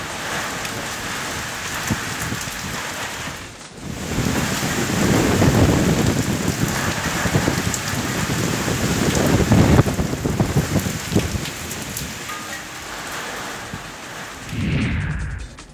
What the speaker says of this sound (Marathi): सातारा जिल्ह्यातील बऱ्याच भागांमध्ये बुधवारी मुसळधार पाऊस कोसळला